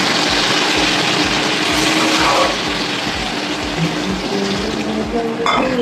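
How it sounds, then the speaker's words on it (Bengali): Water poured into a pan of okra and potato curry cooking in fish oil, a continuous splashing rush close by, with a low rhythmic thumping underneath and a clatter near the end. "এই মাছের তেল দিয়ে ভেন্ডি আলুর তরকারিটা এবার সেদ্ধ হওয়ার মতো জল দিয়ে দেবো বন্ধুরা"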